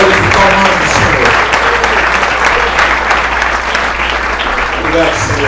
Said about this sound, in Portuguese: Quem pode agradecer ao Senhor e bater palmas